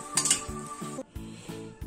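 Cooked meat for a meat-broth soup is cut up with a utensil against a pan or board, making a few sharp clinks followed by rhythmic scraping and tapping strokes, close and fairly loud.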